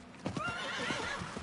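A horse in the Diablo 4 video game, rhythmic hoof clip-clops under a drawn-out whinny, fairly quiet, with no talking.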